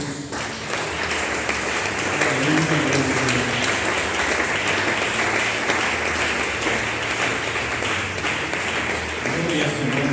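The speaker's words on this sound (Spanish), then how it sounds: "Un aplauso para Jesús." Congregation applauding during a Spanish-language church service, steady dense clapping throughout with voices and cheering mixed in, fairly loud and continuous.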